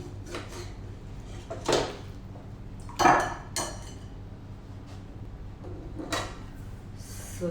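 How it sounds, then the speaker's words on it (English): Rasgullas are lifted out of a metal cooking pot into a bowl, giving scattered clinks and scrapes of utensil against pot and dish, a few sharper knocks standing out over a quiet kitchen backdrop. "we will remove these rasgullas from here into the bowl"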